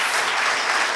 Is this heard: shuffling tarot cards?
no